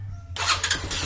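Keeway CR152 motorcycle engine set to a 9,000 RPM limiter bursts into a loud, close rev after a low idle hum, with broadband roaring surges against the limiter.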